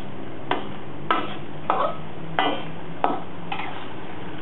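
Minced pork sauce for spaghetti being stir-fried in a pan, with six evenly spaced scraping clanks of a utensil against the pan over a low sizzle.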